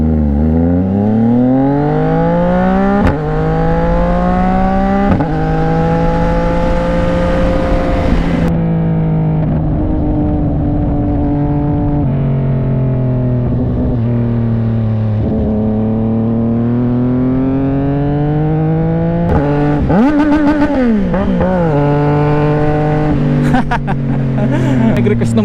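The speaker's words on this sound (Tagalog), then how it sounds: "ganito yung tunog ng motor mo." A CFMOTO 675NK motorcycle with a full-system aftermarket exhaust roars loud and close while riding, its engine note climbing and dropping through repeated revs and gear changes.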